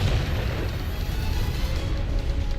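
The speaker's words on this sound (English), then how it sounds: "Oh, what's that? A missile!" A missile blast in the video game Tekken rumbles low and dense, a sustained boom with rolling noise that stays steady and fairly loud from start to finish.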